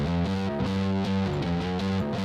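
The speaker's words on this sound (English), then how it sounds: "just the bass all distorted." Bass guitar from the "Paperback Writer" multitracks, driven hard through heavy distortion: a thick, buzzing, sustained line of changing notes, loud and continuous with no talk.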